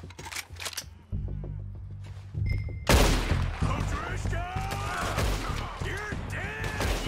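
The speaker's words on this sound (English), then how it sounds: "I'm gonna use my rifle, actually" Rifle shots crack in Red Dead Redemption 2 gameplay, a sharp loud blast at about three seconds followed by echoing reports and mixed game noise, with voices talking throughout.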